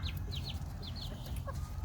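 Chickens cluck repeatedly nearby in a farmyard, short chirpy calls scattered over a steady background rumble.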